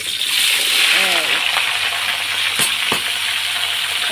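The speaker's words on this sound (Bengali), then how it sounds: "সবজিগুলো দিয়ে একটু ভাজা ভাজা করে নেব" Vegetables fry in a large wok, a bright continuous sizzle with occasional clinks and stirring scrapes, while a person talks over the cooking.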